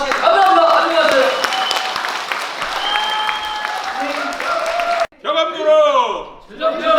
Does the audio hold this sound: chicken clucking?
no